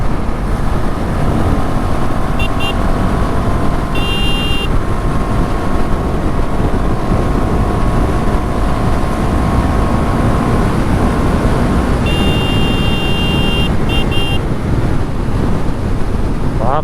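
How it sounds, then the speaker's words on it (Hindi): A KTM Duke 390 motorcycle riding fast on a highway, heard as loud, constant rushing wind buffeting the microphone, with the engine's drone buried underneath. "तेज तो बहुत भाग रहा है गाड़ी, बहुत तेज भाग रहा है।"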